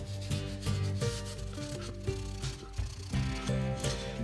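Grease and buildup being wiped out of the grooves of a 5-stud clutch hub, a close, repeated rubbing scrape with ratchety mechanical clicks and tonal squeaks in uneven strokes.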